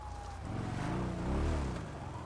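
Police car sirens in a video game wail with slow rising and falling tones over a broad rumble of engine and traffic noise, swelling slightly near the middle, with no speech.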